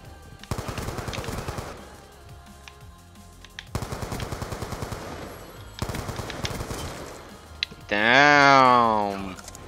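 Shotgun and other gunfire in the video game Black Ops 2, with rapid bursts of repeated shots in three separate volleys, ending in a loud swelling game sound; voices are heard.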